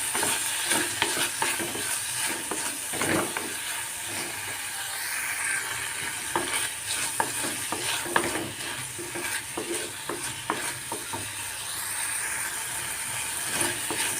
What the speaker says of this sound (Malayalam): ഇനി ഇതിലേക്ക് തക്കാളി ഇട്ട് കൊടുക്കാം ഒരു തക്കാളിയാണ് ഞാൻ ഇട്ട് കൊടുക്കുന്നത് അതും കൂടിയിട്ട് വഴറ്റിയെടുക്കാം